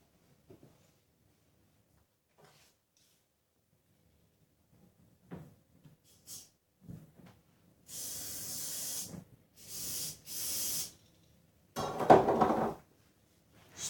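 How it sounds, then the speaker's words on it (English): Cleaner is sprayed onto a cats' litter tray in several short hissing bursts, the last the loudest, after a quiet stretch with faint handling noises. "spraying the cat letter tray because they stink"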